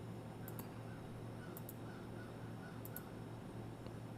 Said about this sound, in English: If you guys can hear those birds or not.